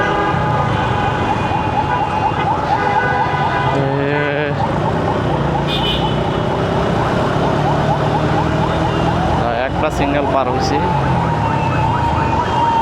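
An ambulance siren wails through dense city traffic at the Karwan Bazar signal in Dhaka, with a loud continuous rising and falling tone over engine noise, horns and someone talking.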